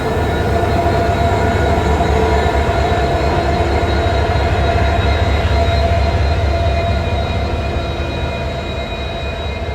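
Freight train hauled by a WDG4G diesel locomotive passing close by in Punjab, a loud steady rumble of wagons and wheels with faint metallic squeal, continuous throughout with no talk.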